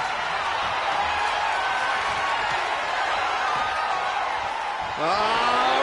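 Wrestling arena crowd at a RAW Day 1 event roars in a sustained, dense wall of cheering and screaming, swelling louder near the end with rising whoops, and no clear talk over it.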